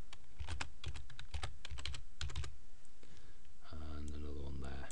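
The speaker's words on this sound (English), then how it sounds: "So just type a couple more." Quick bursts of keystrokes on a computer keyboard, clustered clicks close by, followed by a brief low hum near the end.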